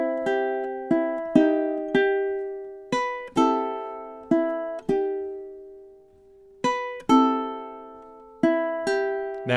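Ukulele plays measures 9 and 10 of a melody: clear plucked notes and strummed chords in a relaxed rhythm, each ringing and fading before the next, with a brief pause midway and no talk.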